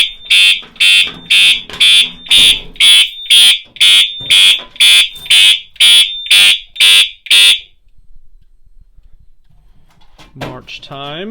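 A building fire alarm panel set to march time coding during a system test, sending a loud, evenly pulsed horn in about thirteen sharp bursts before cutting off, followed by silence and a brief faint rustle.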